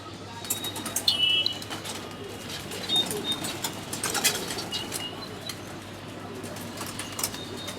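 High flyer pigeons flutter and coo in a loft, with scattered wing flaps, soft cooing and occasional chirps at moderate distance, a voice faintly in the background.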